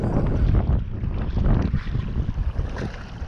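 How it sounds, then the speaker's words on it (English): Gusty wind at a harbour during a fishing outing roars steadily into the microphone, with a rough, buffeting rush and no voices over it. "It is a bit windy now."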